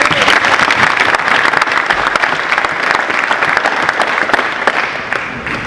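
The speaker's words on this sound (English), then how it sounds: "Come on guys, clap that up." A crowd of high school students claps loudly and continuously for a former NBA Hall of Famer. The dense, close applause holds steady throughout with no talking over it.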